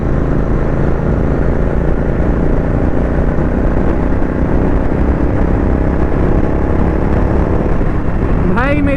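Royal Enfield GT650 motorcycle fitted with an Offtrails Moto S1 Pro, accelerating on a congested highway, giving a steady loud engine drone with wind noise throughout, close to the microphone.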